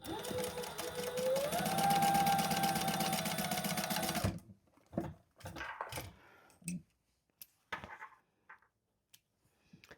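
A sewing machine runs loudly and steadily for about four seconds while stitching across the bottom of a card slot in a zip-around travel wallet, then stops, followed by a few soft handling clicks and thumps.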